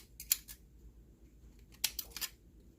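Scissors snipping corners off a metal can for a DIY alcohol stove: two quick snips, a pause, then a cluster of three or four sharp cuts, close and crisp in a quiet room, with no talking.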